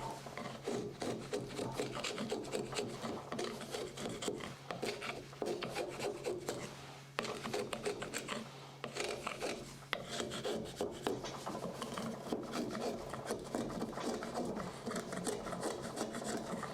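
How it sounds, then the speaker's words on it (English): A wooden bed raiser piece is fed through an unsteady wheeled planer, giving a loud, continuous rasping, scraping drone with short dips between passes, running alone for the whole stretch. "running the whole thing through a planer"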